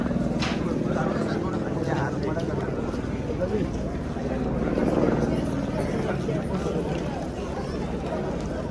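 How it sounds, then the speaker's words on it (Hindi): A steady, heavy helicopter rotor and engine roar fills the scene at a Kedarnath helipad, fairly close and constant, with crowd chatter and voices mixed underneath. "हेलिकॉप्टर आलं आहे."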